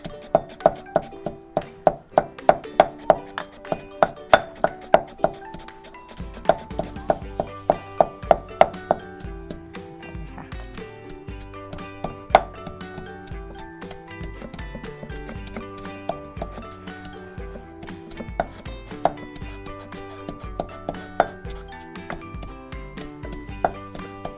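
Chili, garlic and lemongrass pounded in a mortar with a pestle for a traditional Thai recipe, making a run of steady, close thuds over melodic background music that later soften into a denser, quieter pounding.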